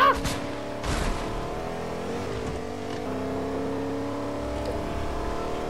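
Car engine in Fortnite, a loud rev at the start and then a steady driving drone with shifting engine tones, no voices.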